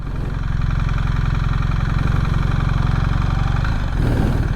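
A BMW GS 1300 Adventure motorcycle with the ASA automated gearbox runs nearby, its engine holding a steady, loud throbbing drone before a brief shift in tone near the end, with no voices.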